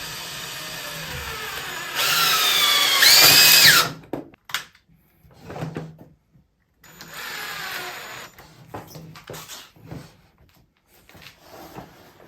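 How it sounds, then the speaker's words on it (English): Power drill driving 3-inch deck screws into a wooden workbench leg, two loud whirring bursts rising in pitch, then scattered clunks and handling knocks before another shorter drill run, no talk. "then we just secure them with some 3-inch deck screws"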